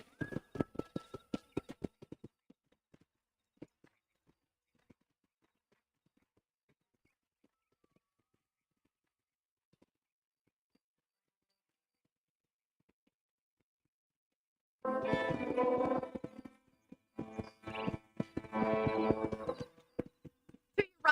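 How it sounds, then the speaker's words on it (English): Hollow hoofbeats of a horse walking in a steady clip-clop in the video game Red Dead Redemption, heard briefly at the start and again more densely near the end, with quiet gaps between. "let's see if you can still ride a horse."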